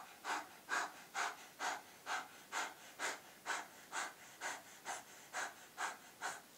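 Rapid, rhythmic panting breaths in the 'little dog' pranayama style, about two sharp, close exhalations per second, steady and evenly paced, with no talking.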